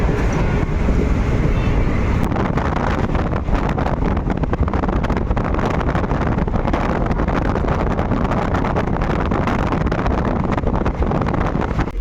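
A moving passenger train on a route from Balurghat to Siliguri, heard from inside as a steady, loud broadband rumble with wind-like rushing noise that continues without a break.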